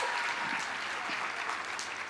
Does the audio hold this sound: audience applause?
yes